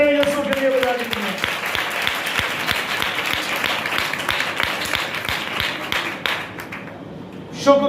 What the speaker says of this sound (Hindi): जोरदार तालियां यीशु के लिए बजा दीजिए।